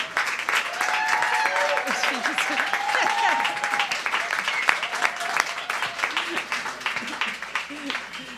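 Audience at a housing awards ceremony applauding, dense continuous clapping filling the room for several seconds, with a voice heard faintly over it.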